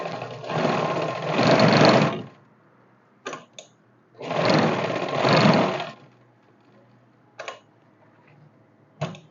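Sewing machine stitching a mohri (trouser cuff) design, with two long steady bursts of rapid needle whirring broken by brief short spurts and pauses, close and clear, with no talk.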